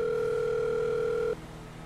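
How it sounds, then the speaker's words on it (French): Steady telephone tone heard while dialing a phone, one continuous loud hum that cuts off abruptly partway through, leaving only faint background noise. "Attends, je vais appeler."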